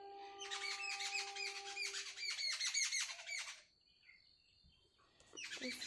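Several birds chirp and squawk in a dense, busy burst for a few seconds outdoors among trees and flowers in the morning, then fall quiet before chirping resumes at the end; a dove's call is not clearly picked out.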